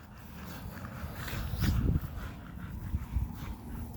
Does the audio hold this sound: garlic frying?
no